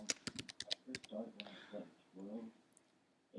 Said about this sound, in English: and if we just type in Crewe